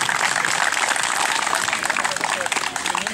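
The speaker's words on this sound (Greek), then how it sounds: "Μπράβο Γιώργο, ένα χειροκρότημα." An audience applauds at an academy closing ceremony, a dense steady burst of many hands clapping throughout, fairly close and loud, fading slightly near the end.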